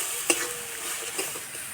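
A spice paste of coriander powder, mustard paste and a little sugar is sautéed in a pan for a katla fish curry, with a sharp spoon clink, soft steady sizzling and a second clink near the end.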